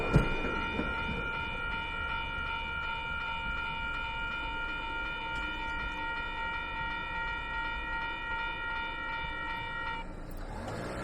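A Wellington Metlink commuter train in Train Sim World 2 runs along the rails with a steady rumbling drone, accompanied by a sustained harmonic horn-like tone that holds for about ten seconds before cutting off.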